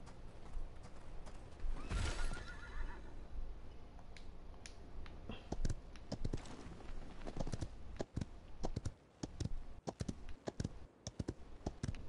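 A horse neighs, followed by clip-clopping hooves, in the video game Paladins, accompanied by steady computer keyboard typing and clicking throughout; no one speaks.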